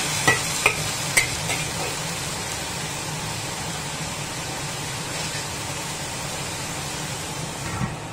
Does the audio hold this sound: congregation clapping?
no